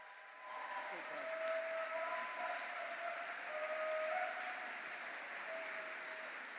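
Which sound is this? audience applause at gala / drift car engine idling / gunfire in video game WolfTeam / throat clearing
audience applause at gala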